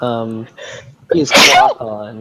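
A sneeze bursts out sharply between stretches of conversation, one loud close explosive sneeze with voices talking before and after it, during a tabletop Dungeons & Dragons game session.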